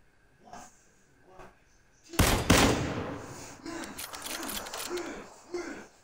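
Gunfire in the PUBG battle royale game on Xbox One, a sharp burst followed by a cluster of rapid shots and echoing reports, with a voice speaking around them.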